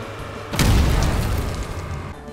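An RPG explosion in the Roblox video game hits as a single loud, deep boom that erupts suddenly and trails off into a rumbling, noisy decay.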